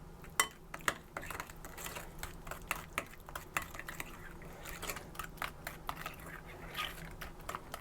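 A spoon scrapes and clinks against a bowl while cinnamon roll filling is stirred in a kitchen classroom, a quiet irregular series of taps and scrapes.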